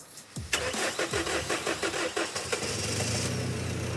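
A car engine cranks with a rhythmic starter churn for about two seconds, then catches and settles into a steady, loud idle.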